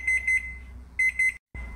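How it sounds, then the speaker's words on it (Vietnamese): An oven timer beeps after a cassava cake has baked for 50 minutes: two bursts of quick, close electronic beeps, each followed by a held tone that cuts off, then a final steady beep. "Đây các bạn ơi, sau 50 phút rồi đó. Mình bíp bíp rồi nè."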